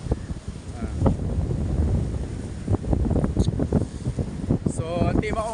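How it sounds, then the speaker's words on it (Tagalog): Strong seaside wind roars and buffets continuously, loud and close with gusty rumbling, while someone talks faintly beneath it. "Ang lakas ng hangin ngayon dito guys."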